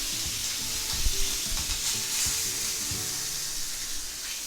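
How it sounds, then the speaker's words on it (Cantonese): Thinly cut pork chops fry in a pan with a steady hiss of sizzling oil, close and even, with a few soft knocks from turning the meat. "見到切完嗰塊豬扒薄咗之後咧，就好快就熟噶啦"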